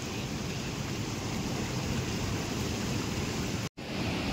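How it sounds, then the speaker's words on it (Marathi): Big ocean waves roll and break on a South Goa beach, a dense, steady roar of surf heard up close, loud and continuous with no distinct individual crashes and no voices. "हे बघा लाटा भरपूर मोठ्या येतात"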